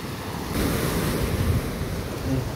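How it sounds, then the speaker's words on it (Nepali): Ocean waves wash in steadily under strong wind at a beach where water bikes run, a continuous loud surf roar with gusting wind rumble on the microphone and no speech. "अनि यस्तो छालमा कसरी कुदाउनु।"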